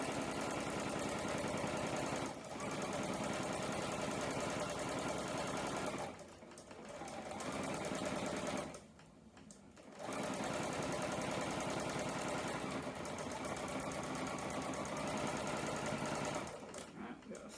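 Sewing machine quilting fabric door banners, running in long rapid stitching bursts with brief pauses between runs, close and steady.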